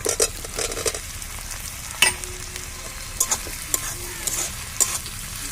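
Ginger-garlic paste, green chili and tomato fry in a pan with a steady, close sizzle, broken by repeated sharp scrapes and clinks of a spoon stirring against the pan.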